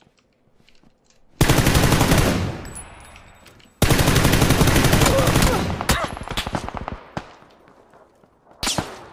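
Rapid automatic gunfire from a shooting video game comes in two long, loud bursts, with scattered single shots trailing off and a brief final burst.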